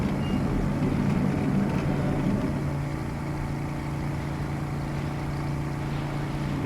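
Steady, loud drone of a boat engine in the MEATCRAB indie horror game, a constant low hum with a slightly rougher patch near the start, no talk.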